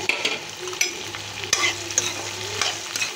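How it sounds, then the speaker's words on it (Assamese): Soybean chunks, chickpeas and potatoes fry in a pan: a steady close sizzle with repeated scraping stir clatters throughout, and no talking. "এতিয়া মই গোটেইখিনি ধুনীয়াকৈ ভাজি ল'ম"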